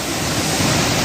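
Sabbitam waterfall pours down in a steady, dense roar of falling water, close and loud, a continuous broadband rush with no pauses and no voices.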